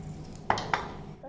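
Two quick plastic clacks from a pull-string vegetable chopper cutting garlic, close and sharp, about a quarter second apart over a quiet background.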